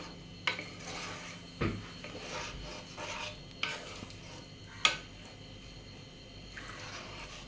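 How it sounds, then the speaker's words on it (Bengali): Basanti pulao being stirred with sugar in a pot: a soft scraping rub punctuated by a few sharp clinks of the spoon against the pot, close and unhurried, with no talking. "3 চামচ চিনি, দিয়ে ভালো করে ওকে নাড়িয়ে দিতে হবে।"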